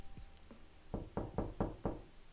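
Knocking on a door: a faint tap, then five firm, evenly spaced knocks, close and clear, with no voices.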